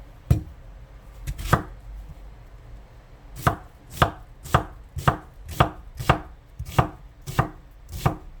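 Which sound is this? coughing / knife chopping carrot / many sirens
knife chopping carrot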